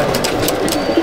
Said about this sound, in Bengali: চারটা পায়রা